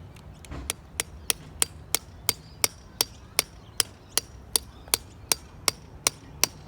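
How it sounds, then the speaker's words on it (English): Repeated light taps on the top of a 90-degree ball valve handle on a live water meter, about sixteen sharp, evenly spaced hits in a steady rhythm, close and clear with a faint background hum. "Just taps, you don't want to wreck the valve. Let me tap it."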